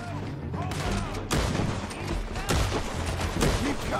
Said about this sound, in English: I feel like I'm shooting through them.